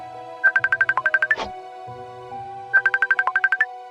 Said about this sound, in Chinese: 就在我起身准备去煮面的时候，我的手机这时突然响了